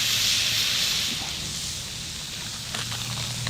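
Flattened burger meatballs sizzle on a hot griddle, giving a steady close hiss that fades slightly midway, with a few soft scraping taps near the end and no talking.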